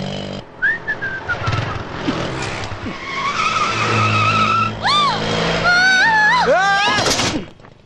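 Vehicle brakes sharply and skids to a stop beside a pedestrian, with a drawn-out tyre squeal among whistle-like tones and music, and voices over the sound.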